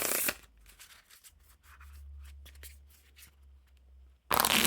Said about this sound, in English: most decks wiffle shuffle, so there's definitely no issues there